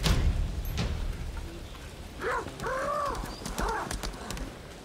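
Black horse mount in the video game Lost Ark, with hoofbeats clopping under a steady game backdrop and a few tonal, whinny-like calls in the second half.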